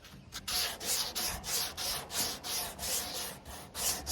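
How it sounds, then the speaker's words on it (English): A sanding block wrapped in sandpaper is worked by hand over a pickup truck bed, giving rhythmic back-and-forth scraping strokes, close and loud, about two strokes a second with no talk. "you put a piece of sandpaper over top of your sanding block"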